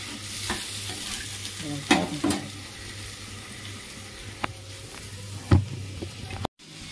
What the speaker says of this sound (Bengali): একটু সামান্য জল দেবো, জল দিয়ে ডালটা ঢেলে দেবো।